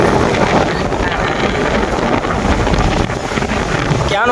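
Strong wind buffets the microphone continuously at a hilltop viewpoint, a loud, roaring rush with no pauses.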